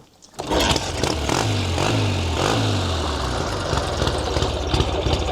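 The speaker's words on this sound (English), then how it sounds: "And give it a kick. And she should fire up." A Rickman Métisse 650cc desert racer motorcycle catches on a kick-start and settles into a steady, loud, close throbbing run with no talk.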